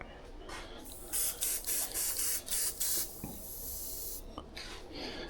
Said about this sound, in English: I'm going to spray right on the center of that eyeball.